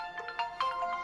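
A new mobile phone ringtone sounds for an incoming call, a bright, close melodic tone of several quick notes repeating alone.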